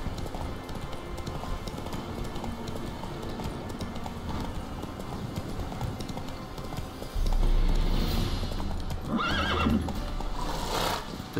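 A horse gallops in The Witcher 3, hooves drumming in a fast, steady clip-clop over continuous movement noise, with louder whinnies and snorts near the end.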